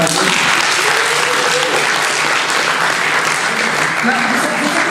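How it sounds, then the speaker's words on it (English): Sustained audience applause fills the room at the final of a public speaking contest, loud and steady throughout with some voices and cheers mixed in. "Can I please have a round of applause for"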